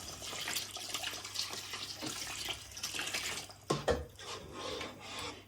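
Water pours into thick mutton biryani gravy in a cooking pot with a rough, rushing splash that goes on steadily and then sputters and bubbles briefly near the end.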